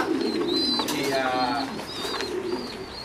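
Young squab pigeons cooing and calling with soft, repeated warbling notes, close by, over a steady background murmur on a pigeon farm.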